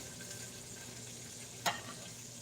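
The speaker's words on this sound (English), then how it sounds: "Hear that sizzling?" Tomato dropped into a hot frying pan sizzles with a steady, faint hiss, broken by one sharp crackling pop partway through; no voices.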